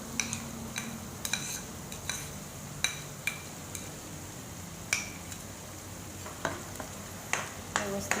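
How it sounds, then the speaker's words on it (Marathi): Onion and pureed tomato frying in oil for chana masala, a low steady sizzle under sharp clicks and scrapes of a spoon stirring against the pan at irregular intervals. "आता हे तेल सुटेपर्यंत आपण याला भाजून घेऊया"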